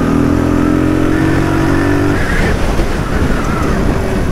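A Daytona DY125RS 125cc motorcycle with about 8 horsepower accelerates in first gear, its engine note loud and close, rising in pitch through a steady rev before a rougher, broadband roar takes over.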